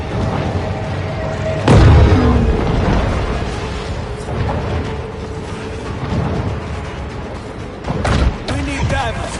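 Torpedo explosions in the Maneater video game land as two heavy, deep booms a few seconds apart, set against continuous game noise and rumble, with a voice talking over parts of it.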